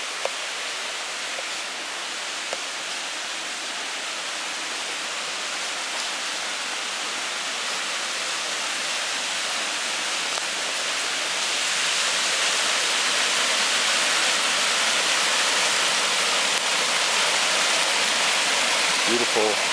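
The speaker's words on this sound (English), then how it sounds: "Beautiful Huckleberry Creek, coming crystal clear out of the national forest." Huckleberry Creek in a national forest near Franklin, North Carolina, runs clear toward a waterfall: a continuous, loud rushing wash of water with no break, swelling slightly toward the end.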